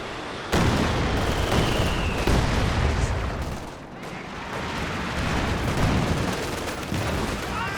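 A Katyusha rocket barrage and mortar fire rage in a Company of Heroes 2 battle: dense, continuous rumbling blasts and crackling detonations that dip briefly midway before surging again.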